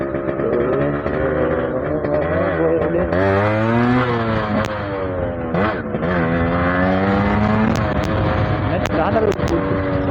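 Yamaha RX100 motorcycle engine throttled up and down, a loud, steady two-stroke drone with rising and falling pitch sweeps throughout, close by and alone.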